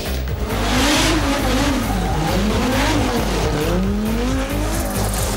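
A Toyota Celica GT4 rally car races through a stage of the Euregio Rally, its engine revving hard and rising and falling in pitch through gear changes while tires squeal and skid, loud and close throughout.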